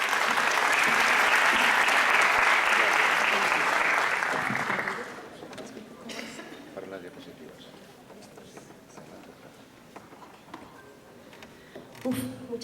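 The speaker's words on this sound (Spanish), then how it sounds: "la recibimos con un aplauso" Audience applause welcoming a speaker from the University of Barcelona at an academic talk on zucchini cultivation, dense and loud clapping for about five seconds before fading to scattered claps and room noise.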